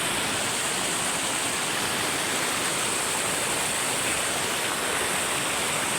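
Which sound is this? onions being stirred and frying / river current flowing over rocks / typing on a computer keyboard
river current flowing over rocks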